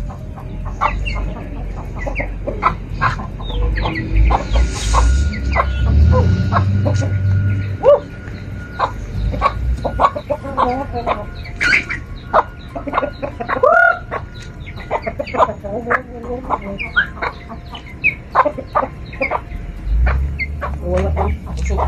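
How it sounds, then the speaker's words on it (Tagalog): Chickens cluck and squawk repeatedly at close range, with occasional rooster-like calls, while a person talks intermittently over the flock. "Chicken."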